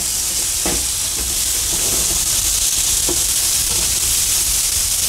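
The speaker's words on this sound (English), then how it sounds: "I'm just gonna stir up the chicken real quick." Chicken sizzling in a hot pan as it gets stirred, a loud steady frying hiss with a few scraping stir sounds and soft pops breaking through, no talking.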